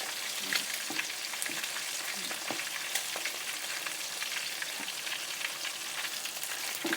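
A steady, crackling sizzle of chicken wings frying in hot oil, with faint pops and occasional soft clinks, continuous and fairly quiet.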